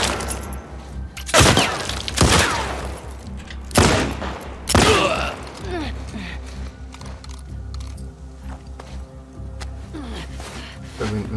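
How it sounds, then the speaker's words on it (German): Gunfire in The Last of Us Part II, a few loud sharp shot bursts near the start amid mechanical clicks and ratcheting weapon handling, then quieter ambient game sounds with no talking. "Jetzt haben wir echt alle Schüsse verbraucht."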